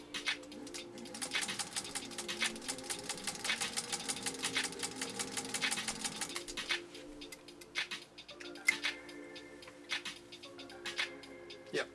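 A 1948 Singer 201-2 sewing machine runs a steady row of stitches with a dense, even mechanical rattle for about six seconds, then stops, leaving scattered clicks and light handling noises.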